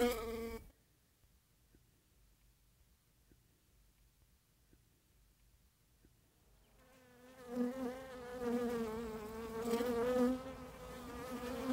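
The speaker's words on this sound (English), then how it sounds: "We are buzzed off." Bees buzzing in a swarm, a faint hum through the first seconds that swells into a loud, dense, wavering drone over the last several seconds.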